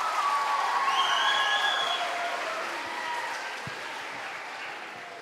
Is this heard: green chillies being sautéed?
no